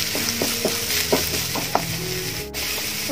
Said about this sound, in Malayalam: ചെറുതാക്കി കട്ട് ചെയ്ത വലിയ സവാളയാണ് കേട്ടോ. അതുകൂടി ഒന്ന് വഴറ്റിയെടുക്കാം.